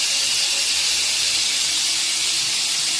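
Steam hisses steadily from a dum-cooked beef karahi pot as its lid comes off, a continuous bright, airy rush holding at an even level with no voices.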